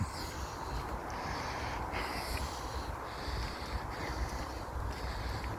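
Distant road traffic in secluded woodland, a steady, even rumble with airy hiss and no clear passes of single cars, continuous throughout with no talk.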